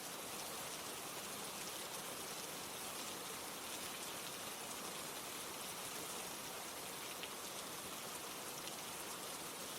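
Steady rain falling on a rainy night, a dense, even hiss of drops spread across the whole stretch, soft and constant with no voices.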